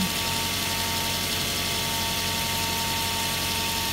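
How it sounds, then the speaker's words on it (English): Steady, loud idling of a 2010 Mazda 3 sedan's 2-liter engine in a junkyard, with a constant low rumble and a faint hum, unbroken throughout, no voices. "Under the hood, we have a 2-liter engine"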